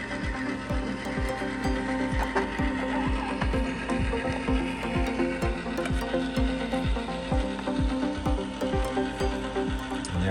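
A TLC Model 5500 pouch laminator runs with a steady, rapid train of mechanical clicks over a continuous motor hum, loud and even from start to end.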